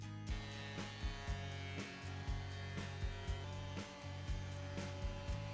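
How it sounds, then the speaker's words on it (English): A planer mills scrap wood pieces, its steady loud motor hum broken by regular thumps as each board feeds through, about once per second, with no speech over it. "I ran all the pieces through the planer."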